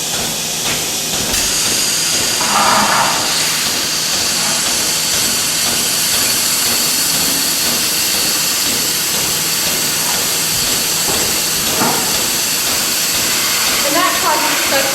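Suction hiss from a cow milking machine, a steady broadband rush that stays loud and continuous throughout, with faint voice-like bits and small clicks underneath.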